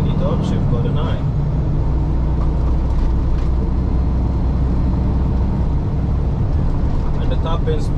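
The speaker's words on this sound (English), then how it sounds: "So now I need to upshift, go to 9." A Kenworth T880 truck with a 10-speed transmission, its engine droning loud and close in a steady, heavy low rumble while moving up into 9th gear.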